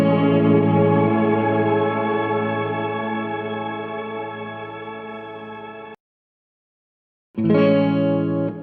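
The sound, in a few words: TCE Hall of Fame 2 reverb pedal effect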